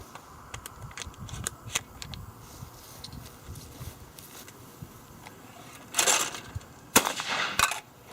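Shots from a Fabarm L4S Initial Hunter 12 gauge semi-auto shotgun loaded with 1 ounce and 1 1/8 ounce loads, heard as a few sharp, loud reports near the end, separated by short gaps, over faint background clicks.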